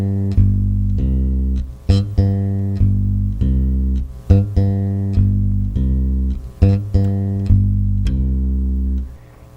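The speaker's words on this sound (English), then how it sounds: "play the same root, C, but now we're going to use the fifth above the root and the fifth below in a style that's called Latin" Electric bass alone plays a Latin-style pattern on a C root, moving to the fifth above and the fifth below, in steady repeating low plucked notes with clear attacks.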